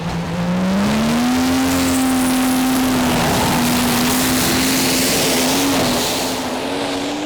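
The Booker Bruiser pulling tractor's engine roars under full throttle at a tractor pulling championship, a loud, sustained, steady drone with a slowly rising pitch that holds for the whole stretch, close and without talk.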